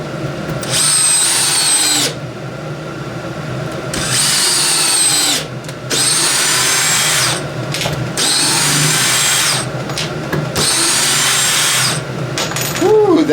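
A DeWalt 20V drill drives screws in repeated bursts, each whirring run lasting a second or two with brief pauses between, loud and close, ending with a ratcheting clutch chatter.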